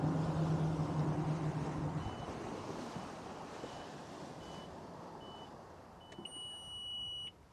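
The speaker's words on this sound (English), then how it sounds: "All the alarms are going off all over the place." Several faint electronic beeps chime at intervals from a Mercury First Mate system on a boat, over steady wind and water rush, with a brief low tone at the start and a sharper alert near the end.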